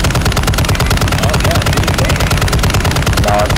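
Loud, dense automatic gunfire in Call of Duty DMZ rattles in rapid continuous bursts close up, filling the whole stretch without a break.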